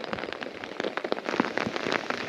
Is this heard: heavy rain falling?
yes